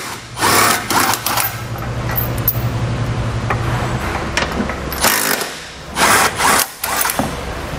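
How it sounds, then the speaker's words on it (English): A 17mm socket backs out the two tow hook bolts on a 2016 vehicle's frame during a Curt trailer hitch install, with bursts of rattling impact-tool chatter and metallic clanks, loud and close, broken by short pauses. "To remove our tow hook, we'll use a 17mm socket and remove those two bolts."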